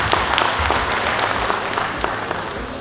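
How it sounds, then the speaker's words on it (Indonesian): Dense, steady applause from an audience at a Subang regency women's welfare (PKK) gathering, many hands clapping together at an even level throughout without a break. "Alhamdulillah, tepuk tangan."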